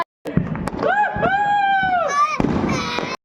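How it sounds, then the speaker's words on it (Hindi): A spinning ground firecracker lit for Diwali hisses and whistles with a rising, wavering whine for a few seconds, with crackling pops and voices in the background. "ये फिरकी वाला पटाखा होता है ना, ये जला रहा था"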